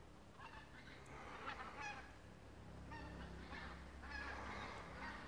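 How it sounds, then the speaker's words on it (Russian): Wild geese honking as they fly overhead in November, several bird calls repeating in loose bursts, moderately faint and distant, with low outdoor rumble of wind or a vehicle underneath and no talking. "Дикие гуси."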